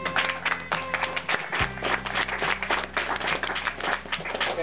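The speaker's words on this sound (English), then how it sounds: "give yourselves a round of applause for that" An audience at a Buncombe County GOP gathering claps together, loud and close, a steady dense patter of hands with a few sharper individual claps standing out.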